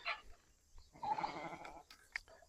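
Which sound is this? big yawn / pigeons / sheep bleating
sheep bleating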